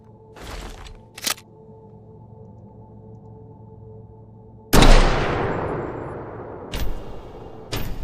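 A drum-magazine gun firing in the space survival game Hiraeth: two short distant pops, then one loud close shot that rings out and decays slowly, followed by two more sharp reports, with no one speaking.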